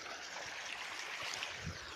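Irrigation water running along a channel into a wheat field outdoors, a faint steady trickling and gurgling flow with no voices.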